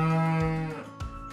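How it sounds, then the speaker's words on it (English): A cow moos in one long, loud call, fading after about half a second and followed by a shorter, softer low grunt, with no other sounds around it. "Yes, a cow."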